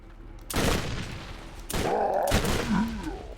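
Fireworks go off outside a window in loud, crackling bursts, two main volleys with rumbling tails, heard over a Borderlands game's effects and a short groan-like sound.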